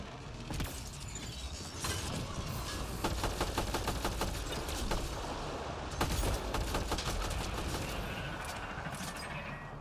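Gunfire in Mass Effect: Andromeda comes as rapid bursts of sharp shots. The bursts are fairly faint under a constant noisy combat backdrop.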